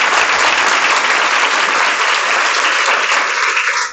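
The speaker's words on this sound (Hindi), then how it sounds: "तो एक बार चाहूंगी कि आप जोरदार तालियां बजाएं हमारे सर के लिए।" Audience applause in a Hindi-language school or institute event, dense, loud and sustained clapping from a large crowd, steady throughout without any speech over it.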